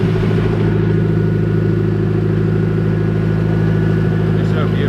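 A Nissan 240SX engine idling close by, a steady deep rumble with an even pulse that carries on throughout at a constant level.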